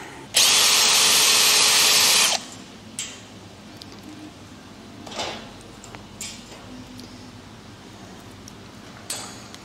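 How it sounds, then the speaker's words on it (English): A power drill unscrews screws from the metal mesh of an old hospital bed, with one loud sustained whir of about two seconds followed by quieter clicks and handling knocks. "I've just got to remove these little plastic caps out of there and then unscrew all of those, and off it should come."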